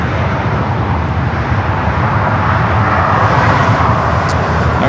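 Jet airliner engines roar loud and steady at LAX airport, with continuous broadband rumble filling the whole stretch and no voices.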